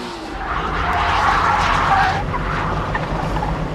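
A Honda GT car pushed too hard slides with a loud, sustained tyre screech over the engine's drone, swelling in the middle and easing off toward the end.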